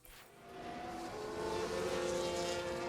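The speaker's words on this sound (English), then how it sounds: "Oh, big lock up there." Race car engines roar in F1 Manager 22 as one car locks its wheels under heavy braking, a loud, steady engine drone with rising tonal whine and a brief tire-scrub edge, no talk.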